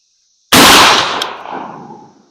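A single loud shotgun blast firing a slug loaded with an LBC-50 wad as a sabot, a sharp close report that rings out into a long decaying echo across the range.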